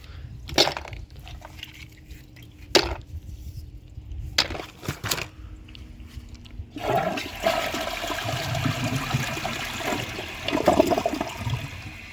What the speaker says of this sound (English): I'm probably gonna give that one another flush just to see if there are any that I missed.